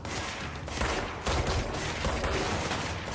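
Gunfire in the video game Control as windows are shot out, a steady dense barrage of shots running continuously with no voices over it.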